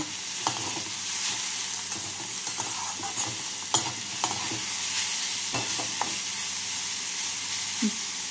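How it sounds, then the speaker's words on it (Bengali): Grated carrot and onion frying in a pan, steady sizzling with repeated close scraping stirs throughout, no voices. "গাজর দিয়ে নাড়াচাড়া করে নিলাম।"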